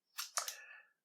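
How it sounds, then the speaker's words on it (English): A Nikonos II underwater camera's shutter button is pressed, giving a quick burst of two or three crisp mechanical clicks close up, with silence after. "The shutter button."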